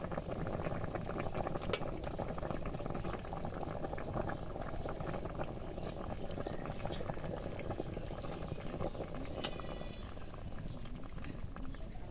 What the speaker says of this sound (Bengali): ঝোলটা ফুটে গেছে এবার মাছ দেবো